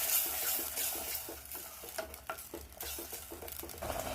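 A spoon stirs ground masala into fried onion, ginger and garlic paste in a pan for a kurma, giving repeated scraping strokes over a steady low sizzle, close and continuous.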